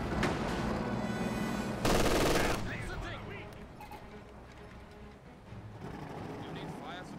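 Machine gun fire from an MG team in the video game Company of Heroes 2 rattles through a dense battlefield din, with one especially loud, close burst partway through amid steady background combat noise.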